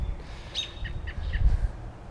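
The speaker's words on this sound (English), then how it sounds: "that bird is going crazy up there" A bird gives a series of sharp, repeated chirps overhead against a low background rumble, several quick calls in a row.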